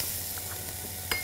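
Minced garlic sizzling in a hot pan, a faint, even hiss with a few light ticks and one brighter click near the end, brief and close.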